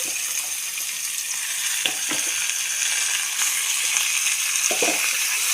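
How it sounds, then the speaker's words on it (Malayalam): Bone-in chicken pieces fry in a pan for a stew with a continuous bright sizzle, broken by a few soft stirring scrapes. "അതാ നമുക്ക് ഇതിനകത്ത് എല്ലോട് കൂടിയുള്ള ചിക്കൻ പീസ് നമ്മൾ ഇതിനകത്ത് ഇട്ട് കൊടുക്കുകയാണ്"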